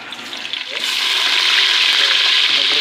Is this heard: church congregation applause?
no